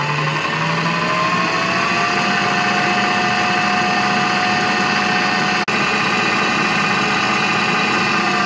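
Electric mixer running at maximum speed whipping cream with icing sugar, a loud steady motor whine with a slight pitch rise early on, continuous and close, no speech.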